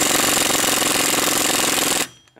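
Impact wrench fitted with a large 1 5/16 inch socket loosening a nut on a vehicle, a loud, close, continuous rattling hammer burst lasting about two seconds before cutting off abruptly.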